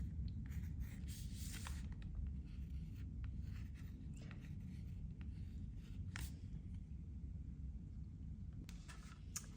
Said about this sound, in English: just start to sketch it out on the note card